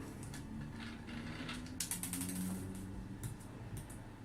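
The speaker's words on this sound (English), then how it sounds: "you're going to just repeat the process and undo all 8 screws" Small screws on a Hubsan X4 Desire Pro H216A drone being undone with a screwdriver, giving close, faint ratcheting clicks and light mechanical ticking in short bursts.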